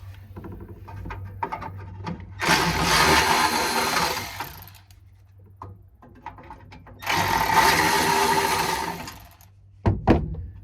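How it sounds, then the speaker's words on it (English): A cordless battery ratchet with a Phillips bit spins screws out of the dash of a 1959 Chevrolet Bel Air. Two close, steady bursts of motor whirring, each about two seconds long, are separated by quieter clicks and handling noises. "put a Phillips and battery ratchet. and spin that thing out."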